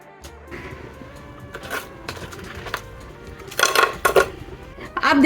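Pieces of crisp sesame and jaggery chikki are set onto a plate, making scattered clinks and clatters that grow louder toward the end, while someone talks.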